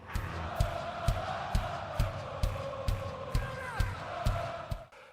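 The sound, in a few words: concert crowd singing a song's guitar parts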